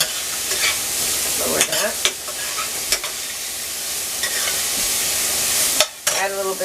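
Ingredients sauté in a pan for a stuffed pumpkin, a continuous sizzle with repeated utensil scrapes and clicks against the pan, and a brief spoken comment over it.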